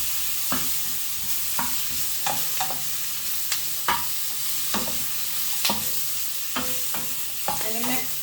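Vegetables and prawns being stir-fried in sesame oil, with repeated scraping and stirring strokes of a utensil in the pan over a steady close sizzle, no voices.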